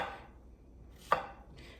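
A single crisp knife chop through a firm zucchini, sharp and close, set in a quiet kitchen with faint background hiss.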